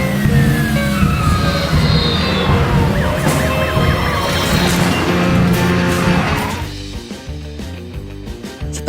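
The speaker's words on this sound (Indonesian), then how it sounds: "Suara sirene polisi mulai terdengar dari belakang mobil Attila." Police sirens wail during a car chase in a bank robbery film, with rising and falling siren tones over engine roar and tire skids, all beneath a layer of dramatic background music that takes over near the end.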